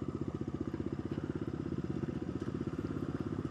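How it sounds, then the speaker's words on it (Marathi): A motorcycle rides over a rough road near a Portuguese-built fort in Alibaug, its engine a steady, close, pulsing rumble throughout with faint rattles and no talk over it. "बाइक निकलो राइड पे."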